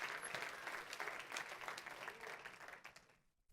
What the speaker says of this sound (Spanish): Denle un aplauso al Rey de la Gloria conmigo.